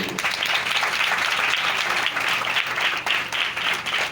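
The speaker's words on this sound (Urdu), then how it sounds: "سو دونوں بھائیوں کے لیے زوردار تالی بجائیں" A church congregation gives loud applause for two visiting brothers, a dense, steady roar of clapping from many hands filling the space without pause.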